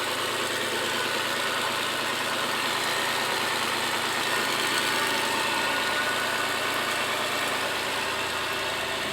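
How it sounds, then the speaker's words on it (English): A car engine with an exhaust leak idles with a steady, rough, raspy rumble and a hissing, puffing edge, heard close at the rear and constant throughout. "So here's what the exhaust sounds like back here."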